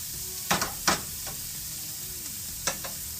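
Ground big game meat fries over medium heat in a pan with a constant sizzle, while a utensil stirs and scrapes it in a few distinct strokes close by, with no voices.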